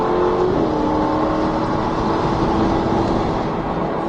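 A Ferrari 488 GTB engine accelerating hard through fourth and fifth gear, a loud close continuous roar that dips slightly at the shift, with no speech.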